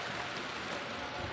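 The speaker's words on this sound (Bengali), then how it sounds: "কেমন বৃষ্টি, কি বলবো।" Heavy monsoon rain pours down steadily outside a house, a dense, constant hiss of drops striking surfaces with no pauses and no voices.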